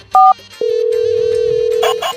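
A phone call rings out with no answer: a short electronic beep, then one long, steady ringback tone that holds for over a second before fading into faint noise.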